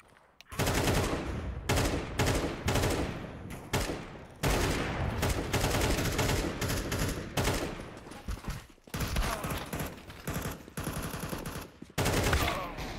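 Sustained automatic gunfire in Counter-Strike 2 on the Dust2 map, loud and close, with dense rapid bursts separated by brief gaps and hardly any speech over it.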